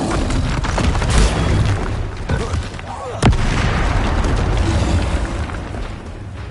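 Fire and blast spells in Hogwarts Legacy go off as a steady stream of booms and bursts over dense game noise, with one sharp, louder crack near the middle.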